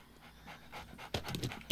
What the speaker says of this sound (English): Oh god, they're dogs